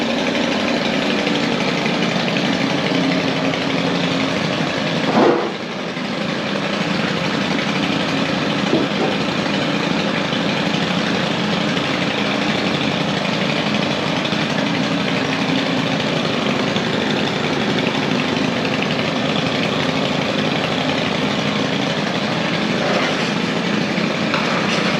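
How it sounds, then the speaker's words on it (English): A Husqvarna engine idling steadily after starting, a continuous close rumbling drone with a brief dip partway through and no talking. "Let's go ahead and fire up the Husqvarna."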